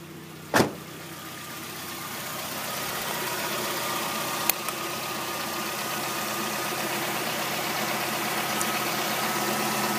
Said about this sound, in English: First thing I want to do is start the car, run it to operating temperature